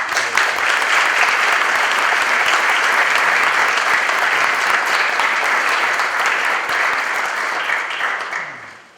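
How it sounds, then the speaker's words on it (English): An audience at a board meeting applauds its retirees, with dense, loud, sustained clapping that continues evenly for several seconds before tapering off at the end. "Another round of applause for our retirees"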